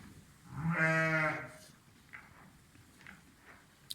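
A single loud bleat from a nearby lamb or sheep on a farm, lasting under a second, followed by quiet farmyard background with faint distant sounds.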